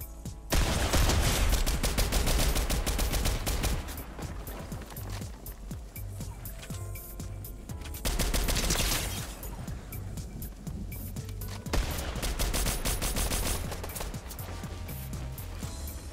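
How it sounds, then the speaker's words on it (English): Rapid mammoth pistol gunfire crackles through a close-range fight in a mobile battle royale game, with dense bursts of shots repeating loudly for most of the stretch and only short lulls. "this fight right here, might be the sole reason the mammoth pistol got nerfed"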